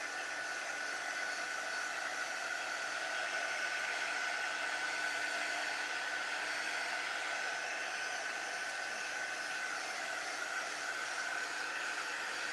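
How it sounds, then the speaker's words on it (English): An air dryer blows over a chalk-painted mason jar, a steady, even whirring hiss of moderate loudness that holds unchanged for the whole stretch, with no talking. "just an air dryer"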